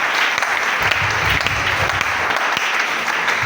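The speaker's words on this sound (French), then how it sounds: "Acclamons la parole de Dieu." A church congregation applauds steadily during a French-language prayer and fasting service, a dense, continuous clatter of many hands filling the room at close range without pause.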